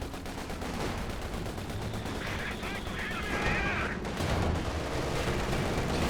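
Dense battlefield noise from the Company of Heroes 2 game, with continuous gunfire, tank cannon and explosions, and panzer fire on an anti-tank gun being repaired, loud and unbroken throughout.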